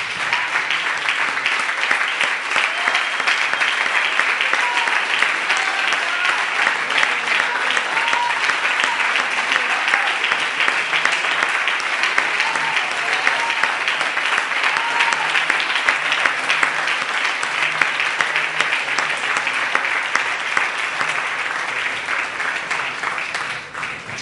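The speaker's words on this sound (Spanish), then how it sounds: "Ahora denle un aplauso al Señor por su palabra" A church congregation applauds steadily at a Spanish-language service, a sustained wash of many hands clapping that stays even and full for over twenty seconds with no break.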